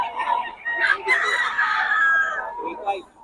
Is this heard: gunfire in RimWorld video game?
no